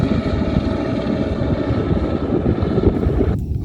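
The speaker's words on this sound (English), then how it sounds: "What you hear in the background is a helicopter that just have dropped some supplies for the cabin." A helicopter that has just dropped supplies at a remote mountain cabin on the Hardanger Plateau in Norway gives a steady, distant low rumble that continues throughout, mixed with wind buffeting the microphone.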